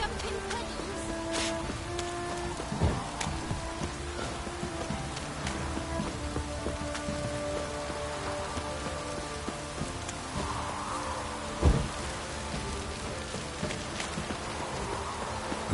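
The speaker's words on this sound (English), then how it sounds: "Looks like rain." Steady light rain in The Witcher 3: Wild Hunt pattering on surfaces, continuous and even throughout, with a faint distant thump or two beneath the drizzle.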